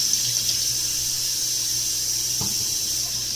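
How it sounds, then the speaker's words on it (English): Tap water runs steadily into a kitchen sink while hands are washed, a constant close hiss with a brief splash partway through and no talk. "Gonna wash our hands."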